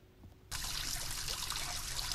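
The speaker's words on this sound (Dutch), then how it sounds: "ik doe de douche van je aan" A home shower is switched on abruptly and then runs in a steady, loud hiss of spraying water, close by.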